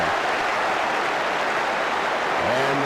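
A stadium crowd in a college football video game lets out a sarcastic cheer, a steady wash of broad crowd noise with no breaks, moderately loud and distant.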